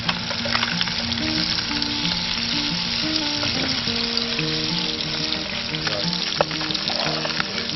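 Fish sizzles and fries steadily in a pan of oil and butter, a loud continuous crackle with a brief clatter as the golden-brown fillet is turned over.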